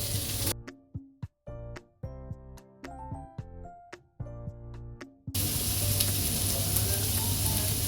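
Vegetables and sliced carrot for dragon chicken sauté loudly in a hot pan. A brief sizzle opens, a stretch of plucked tonal music interrupts, then a strong, steady close-up frying hiss returns and fills the last few seconds.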